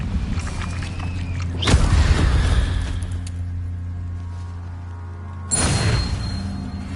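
An Incendio fire spell is cast in the Hogwarts video game, giving a sudden loud whooshing burst of flame that fades, followed a few seconds later by a second sharp fiery burst, with no talking.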